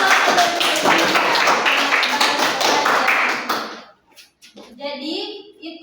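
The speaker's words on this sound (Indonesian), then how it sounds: "Berikan aplaus untuk puisinya." Classroom applause for a recited poem, a dense burst of many hands clapping together for about three and a half seconds before dying away, followed by brief voices.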